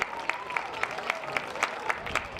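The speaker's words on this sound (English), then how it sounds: "give all of them a big round of applause" Applause at a high school homecoming football game between St. Michael the Archangel and Southeast High School, a crowd clapping in the distance with sharp periodic claps rising above a steady background wash.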